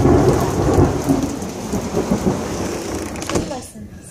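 A thunderstorm with heavy rain pouring steadily and a loud, deep thunder rumble rolling through, fading toward the end.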